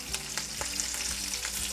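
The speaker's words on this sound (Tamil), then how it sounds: "இப்போ கருவேப்பிலையும் சேர்த்துடலாம்." Curry leaves hit hot oil for rava pongal, giving a loud, close sizzle with repeated sharp crackling pops over a steady frying hiss.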